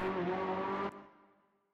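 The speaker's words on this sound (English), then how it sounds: "Yeah, the engine sound is definitely amazing." A Ferrari 488 GT3 in a racing video game on the Hungaroring: a loud, steady high-revving engine note holds for nearly a second, then cuts off abruptly and decays into a fading exhaust tail.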